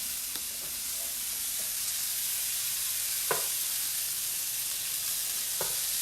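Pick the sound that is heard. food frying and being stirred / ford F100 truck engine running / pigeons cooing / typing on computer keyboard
food frying and being stirred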